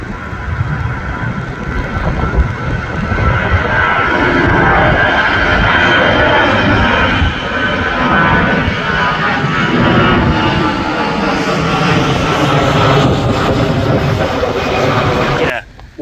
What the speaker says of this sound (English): Brilliant views of the planes taking off,